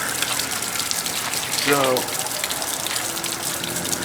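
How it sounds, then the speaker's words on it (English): Water spraying and gushing from flushing muffs on an outboard motor, a continuous splashing rush that runs throughout, with a voice briefly speaking over it. "freaking water is everywhere"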